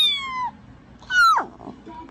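A small child imitates a cat's meow while holding the cat, and the cat answers with its own meow; two or three short, close, high-pitched calls trade back and forth over faint background noise.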